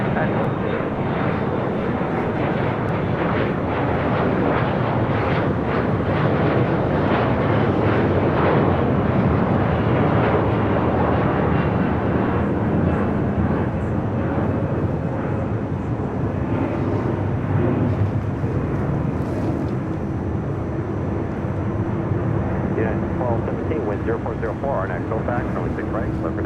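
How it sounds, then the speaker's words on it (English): A United Express SkyWest Embraer E175LR regional jet takes off at night at LAX, producing a loud, continuous engine roar that stays strong throughout and fades slightly near the end, with voices audible underneath. "That was United Express SkyWest Flight 5795 heading to Hayden in an E175LR."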